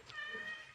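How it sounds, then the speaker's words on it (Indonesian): A cat in a workshop gives a single short, fairly faint meow, heard close and alone. "Jadi kita punya kucing laknat di bengkel."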